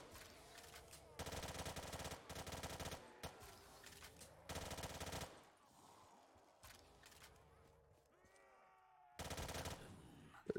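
Gunfire in a Call of Duty Zombies map on an island, long loud bursts of automatic fire in several separate stretches, with quieter gaps and someone talking faintly between them.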